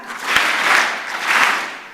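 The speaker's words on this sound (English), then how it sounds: "2 factorial clap means you clap twice and once." An audience at a panel event claps together in a rhythmic pattern of two claps followed by one, the bursts loud and bright with slight unevenness across the crowd.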